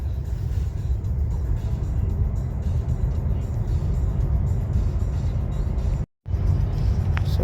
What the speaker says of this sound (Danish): Og stadigvæk stille og rolig acceleration herude af rundkørslen.